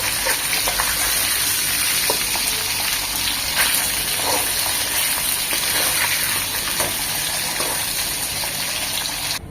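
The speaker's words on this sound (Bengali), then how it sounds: "আমরা এটা চুলায় চলে যাব হালকা করে ভেজে নেব" Marinated Shillong fish pieces coated in turmeric and salt fry lightly in a pan on a stove, giving a dense, continuous loud sizzle and bubbling hiss with small crackles throughout, no voices.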